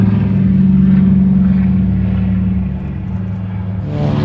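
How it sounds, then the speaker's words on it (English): The B-25 bomber Panchito flies past at an air show, a loud, continuous piston-engine drone with a steady low rumble that eases slightly and then swells again. "Beautiful airplane."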